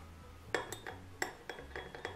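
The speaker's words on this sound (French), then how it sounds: "Je mélange et directement vous voyez que le slime se forme" A utensil stirs clear glue and laundry detergent in a cup to make slime, tapping and scraping the rim in a quick, uneven run of about eight close, light clinks.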